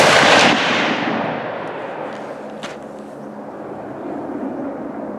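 A Zastava rifle fires a single loud shot at the start, its report booming and then rolling away in a long decaying echo across an open range, with faint clicks and rustle afterward.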